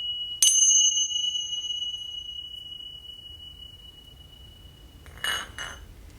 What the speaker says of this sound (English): we begin our sacred practice as we do each one with 3 chimes